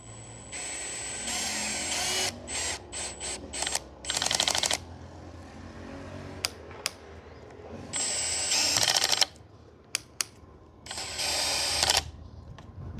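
A Makita DHP490 cordless drill drives a screw at very low speed. Short, intermittent whirring and clicking bursts separated by quiet gaps, close up and with no talking.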